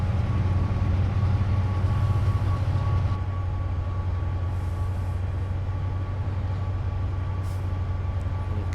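Train passing a Freightliner train in Train Simulator Classic, a steady loud low rumble of rolling stock with a faint constant hum, easing slightly partway through, alone without talk.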